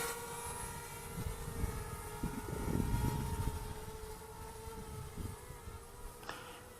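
A DJI Spark drone flying outdoors in gusty wind gives a steady, thin high-pitched propeller whine with layered tones, heard from a moderate distance over rumbling wind buffets that swell and fade.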